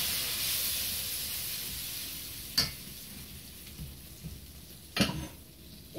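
Tomatoes fry in a pan for pizza sauce with a soft, steady sizzle and hiss, broken by a couple of sharp clatters from stirring or utensils.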